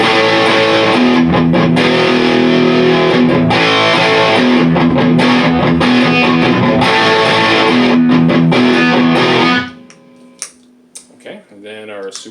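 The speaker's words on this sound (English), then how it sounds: "what I'm going to do first is punch in my distortion" Heavily distorted electric guitar through a distortion pedal on a Vangoa PD-M pedalboard, loud, dense chords and riffs for about nine seconds, then the sound cuts off abruptly, leaving a few faint picked notes and pedal ticks in near silence.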